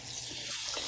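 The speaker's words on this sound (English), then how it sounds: "adding some water." Water running from a tap into a pot while noodles are cooked with a beef seasoning pack, a steady broadband pour that stays close and fairly quiet with no talking.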